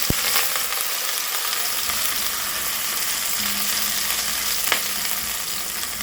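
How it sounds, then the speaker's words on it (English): Chopped onion softening over lowered heat in a pan while cooking vegetable pulao, giving a steady, fairly quiet sizzle that runs evenly throughout, with a faint clink or two. "add onion. And turn the heat down. We're just softening the onion"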